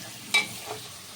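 Spices fry in oil, a soft steady sizzle with one sharp scrape of a stirring utensil and a fainter second knock, close and quiet, no voices.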